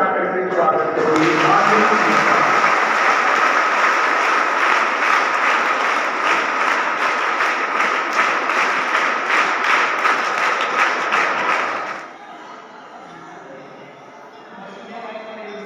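A crowd at a school Children's Day celebration applauds to welcome a guest: dense, loud clapping that runs for about eleven seconds and then stops abruptly, leaving quieter room noise.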